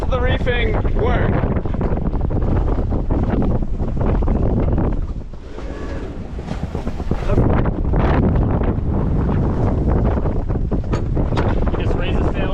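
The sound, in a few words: junk-rigged sailboat sailing in wind, half reefed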